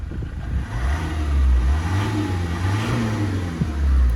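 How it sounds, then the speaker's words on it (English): Ford Transit Jumbo minibus engine given a quick rev from idle, a low diesel drone swelling briefly and settling back, heard close with no talking. "Give it a quick rev actually."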